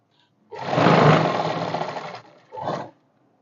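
A sewing machine stitches a kurti in a long continuous mechanical whir lasting about two seconds, then stops and gives a shorter second burst; no talking.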